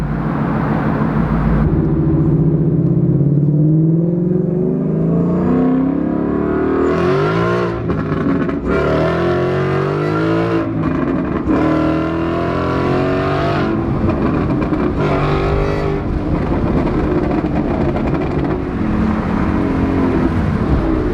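A boosted 2018 Mustang GT V8 with a stage 1 burble tune revs repeatedly, its loud exhaust rising and falling in sweeps with crackling pops between throttle blips, close and without talk.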